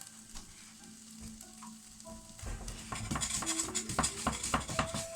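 Spiced keema mince hits a hot pan and sizzles loudly, with a spoon scraping and stirring the mixture and utensils clinking against the metal.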